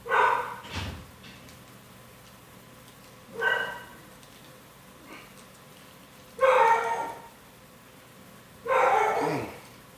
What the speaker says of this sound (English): My dogs want to make their presence known today.